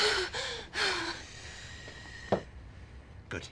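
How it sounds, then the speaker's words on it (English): Deep, slow breathing demonstrated for a woman in labour: a few audible inhales and exhales with a soft voiced sigh, then a brief sharp sniff near the end. "That should be deep breaths, hmm? Like this."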